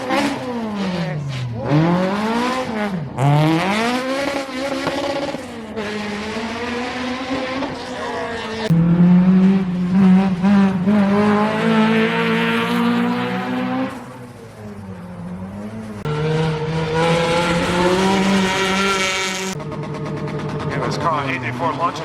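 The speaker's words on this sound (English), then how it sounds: "This car 84 launches into the stage." Rally car launching into a stage at the Speyside Rally: a loud engine revs hard and climbs through repeated gear changes, pitch rising and dropping, passing close with sustained roar and brief lifts between shifts.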